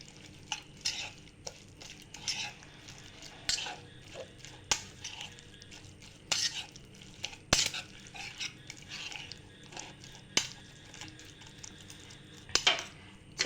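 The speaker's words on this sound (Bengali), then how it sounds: "দিয়ে ভালোভাবে মিক্স করে নিচ্ছি" A spoon stirs flour into a thick vegetable cake batter in a bowl. The stirring comes as quiet, uneven scrapes and knocks against the bowl, with a few sharper clinks spread through.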